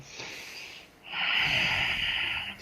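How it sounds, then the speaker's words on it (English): A deep ujjayi yogic breath, slow and audible with a throaty, oceanic rasp, heard close up: a softer inhale followed by a longer, louder drawn-out exhale, alone without talk. "especially if we're doing ujjayi breathing, that very deep breathing"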